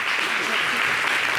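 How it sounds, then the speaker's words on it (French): A television studio audience applauds a performer on a variety show stage, steady dense clapping filling the whole moment at close, even loudness. "Merci de l'applaudir."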